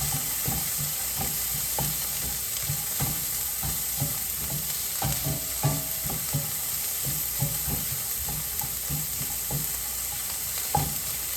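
Corn kernels fry in melted butter in a pan, a continuous close hiss dotted with frequent small pops and crackles, steady throughout with no voices.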